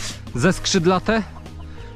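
Chickens cluck in a henhouse as they are given feed, with a few rising, drawn-out calls close by over a steady low background hum, and a person talks briefly.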